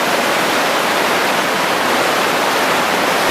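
Waterfall in Scotty Creek slot canyon, a dense, steady roar of falling water heard up close and alone, loud and unbroken from start to finish.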